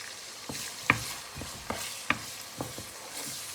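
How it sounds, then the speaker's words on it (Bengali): Onions frying in a pan on raised heat, browning slowly: a soft steady sizzle with a few sharp scrapes and knocks of a spoon stirring at irregular intervals, close by with no talking. "এই পেঁয়াজটাকে আপনি একটু সময় নিয়ে ভালো করে কষাতে হবে until it's golden brown."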